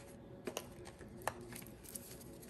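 Tarot cards are shuffled by hand in a quiet room, giving soft, close riffling and a few sharper flicks and taps.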